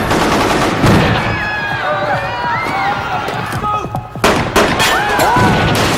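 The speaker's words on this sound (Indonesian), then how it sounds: "Inspektur Chen pun melepaskan tembakan ke atas." Gunshots are fired into the air in a film scene at a convention building, sharp cracks over a noisy, busy backdrop of crowd and commotion, loud throughout.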